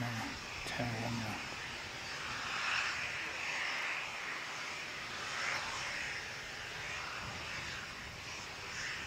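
A fixed-wing aircraft bound for Hamilton takes off on runway 29 at an airport in strong winds, its engine droning as a steady, distant roar that swells and fades. Wind and a faint voice sit under the engine noise.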